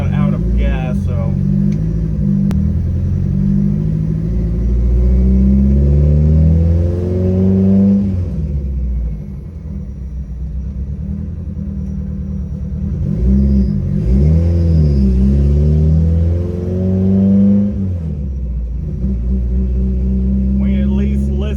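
A Chevy Cruze 1.8 turbo with an AWD conversion drives down a street, its engine droning steadily and rising and falling in pitch as it accelerates, close and loud throughout.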